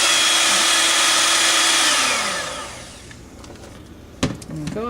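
A stand or hand mixer whirs loudly through cheesecake batter, steady for about two seconds before winding down and stopping, followed by quieter kitchen clatter and a short knock near the end.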